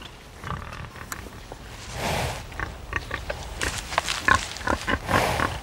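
Pigs on a farm grunt and snort in short irregular bursts, some louder squeals standing out over a quiet outdoor background.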